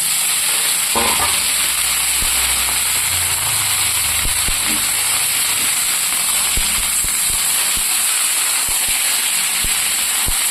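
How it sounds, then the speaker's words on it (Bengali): Vegetables tip into hot oil over browned onions for a vegetable curry, setting off a loud, continuous sizzle with a few clatters and stirring scrapes near the pan. "এখন আমি সবজিটা ছেড়ে দেবো।"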